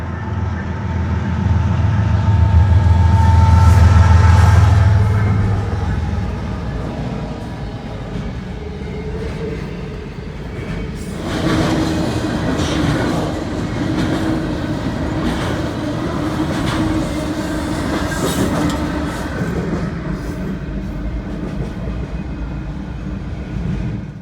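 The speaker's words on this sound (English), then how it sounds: "this was a Norfolk Southern International Intermodal with a GEVO leading and Dash 9 and C6M in the middle as mid-DPUs" A Norfolk Southern intermodal freight train led by a GE GEVO locomotive, with Dash 9 and C6M units as mid-train DPUs, rumbles past nearby. A loud low engine drone builds first, then a long steady roar of railcars with rhythmic wheel clatter follows.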